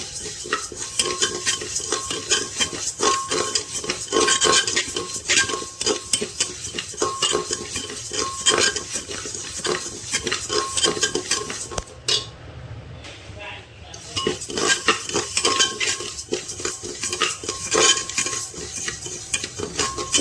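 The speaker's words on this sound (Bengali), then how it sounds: "মুগ ডালটা আমি ভালো করে ভেজে নেব।" A utensil scrapes and clinks steadily against the metal of a pressure cooker as mung dal dry-fries inside, a busy close stirring rattle with a brief pause midway.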